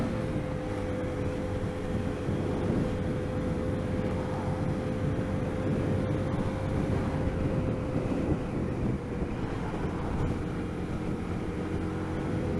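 A Lexmoto ZSB motorcycle with five gears accelerates in a steady, loud engine drone with a sustained tone throughout, heard up close from the rider's position with wind roar.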